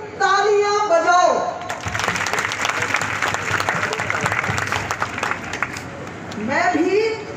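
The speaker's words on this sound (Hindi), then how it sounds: "आप अपने लिए तालियां बजाओ।" A crowd at a public welfare scheme camp inauguration in India claps loudly and steadily for several seconds, with someone speaking into a microphone before and after the applause.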